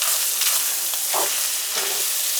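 Sausage and chorizo frying in a pan, a dense, steady, loud sizzle with a couple of brief clinks, close and continuous, no voices.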